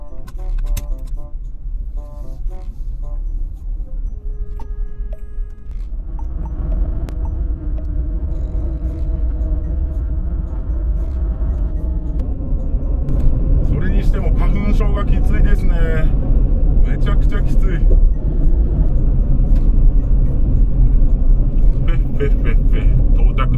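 A Honda Benly 50 AA05, a water-cooled 50cc business motorbike, rides along a road with a steady low rumble of engine and wind throughout. A rider talks over it.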